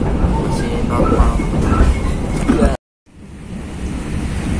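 A 2021 K3 passenger coach rolls along the rails on the Cilegon to Pasar Senen line, giving a steady loud rumble and hiss that cuts out abruptly for a moment before fading back in.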